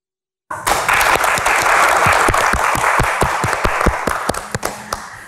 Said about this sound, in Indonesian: kita berikan tepuk tangan yang paling meriah untuk panelis yang sudah hadir di Q&A malam ini